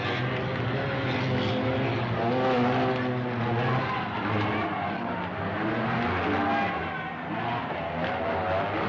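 Speedway motorcycles without gearboxes or brakes race around a short track at up to 75 mph, their engines giving a continuous loud, rising and falling roar that overlaps throughout, with no talk.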